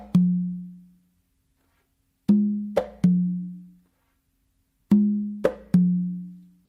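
A conga plays a sparse tumbao pattern that opens with a close, sharp slap, followed by ringing open tones and quick slaps in two repeating phrases with silent gaps between them.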